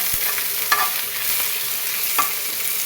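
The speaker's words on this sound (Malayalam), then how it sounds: "കറിവേപ്പിൻ്റെ ഇലയും കൂടെ ആ എണ്ണയിലൊന്ന് വഴറ്റിയെടുക്കട്ടോ" Curry leaves sauté in oil in a pan, giving a soft, steady sizzle broken by a few sharp scrapes and clinks of stirring, close by and with no voices.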